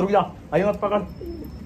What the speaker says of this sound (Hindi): देखो ये रहा ये कबूतर